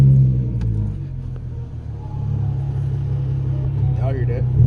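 A Ford Mustang engine turns over and settles into a low, steady idle on a hot day with the air conditioning running. The rumble stays close and continuous, and a voice briefly joins near the end.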